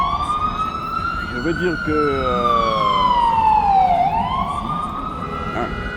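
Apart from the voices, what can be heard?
ambulance siren passing behind the speaker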